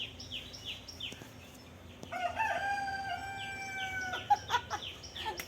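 A nearby rooster lets out a loud, drawn-out crow partway through, with short clucks and sharp chirps around it; the opening is quieter, carrying faint bird calls.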